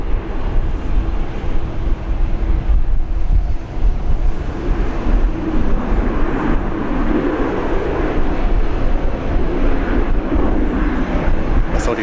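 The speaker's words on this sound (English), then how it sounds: "Qantas touching down pretty short" Qantas airliner landing on runway 19 left at Brisbane International, a loud continuous roar of engines and rushing air that swells and holds, with wind buffeting the microphone.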